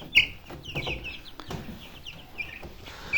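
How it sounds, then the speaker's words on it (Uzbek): Several 22-day-old Andijan black chicks peep and cluck in a quick, uneven series of short high calls, close and fairly faint. "Bu ular o'zi Andijon qora jo'jalari."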